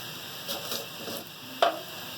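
A pot of beef yakhni stock at a boil gives soft bubbling and sizzling, with a sharp utensil clink near the end, close and moderately quiet.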